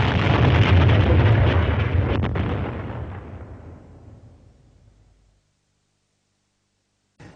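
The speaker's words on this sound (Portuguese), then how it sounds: "um ramo de flores armadilhado com uma bomba foi lançado" A bomb hidden in a bouquet of flowers blows up in a documentary reenactment: one loud, close explosion with a heavy low-end roar that slowly rumbles away over several seconds, followed by silence.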